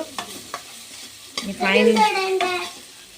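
Lemon rice being stirred and mixed in a pan, with a few light scrapes, then a busier stretch of stirring over a soft sizzle, close and moderately loud.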